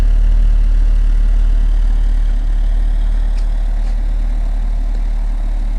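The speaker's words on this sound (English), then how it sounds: "Out back, the exhaust is nice and mellow and quiet." A 1979 Volvo 245 DL idles steadily, a low, even engine rumble with a mellow, quiet exhaust note that stays constant and close throughout, with no voices.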